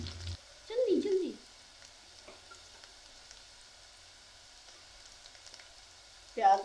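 Onions frying in a pan for homemade saag, a faint steady sizzle heard close, with brief bursts of talk near the start and end.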